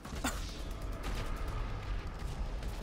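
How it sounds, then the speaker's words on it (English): Dense barrage of explosions and gunfire in Grand Theft Auto, with one sharp blast near the start over a constant roar of blasts and shots. "There's so darn many explosions it in the last few seconds"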